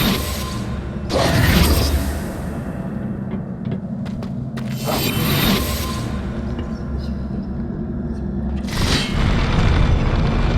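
Revelio spell cast in the video game Hogwarts Legacy: loud, deep booming whooshes that swell and fade in three waves over a continuous low rumble, with faint clicks between.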